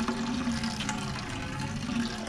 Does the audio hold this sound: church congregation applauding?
no